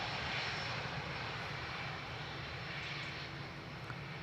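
An Airbus A321XLR airliner arriving at Dublin Airport gives a steady, loud engine roar that holds nearly constant throughout, with a broad rushing whine and no voices.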